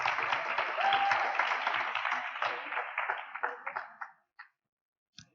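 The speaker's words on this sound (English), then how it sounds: "a round of applause, please, for Sunny Sethi" Audience applause at an awards event, a full, even round of clapping that gradually fades and breaks into a few last scattered claps before silence.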